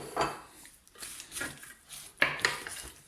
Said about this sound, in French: Donc l'oignon émincé et on vient mélanger.